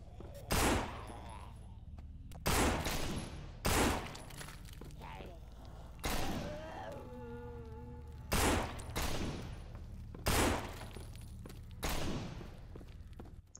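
Seven loud, sharp .357 Magnum revolver shots fired at irregular intervals in the zombie game No More Room in Hell, each a hard crack with a brief tail, separated by quiet gaps with faint game sounds.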